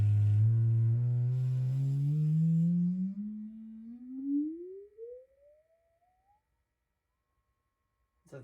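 A sine-wave test tone sweeps smoothly upward in pitch through an Alpine Type R car audio speaker, starting loud and low, then fading as it climbs until it cuts out, leaving near silence.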